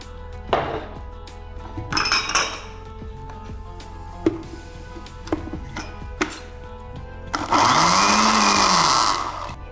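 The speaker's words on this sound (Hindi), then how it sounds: "फिर हम इन तमाम चीज़ों को मिक्स करके ब्लेंड कर लेंगे और इसका एक थिक सा पेस्ट बन जाएगा" A blender runs over a mix of ingredients being worked into a thick paste, starting as short clatters and pulses, then settling into one loud, steady whirring run near the end, with no one talking.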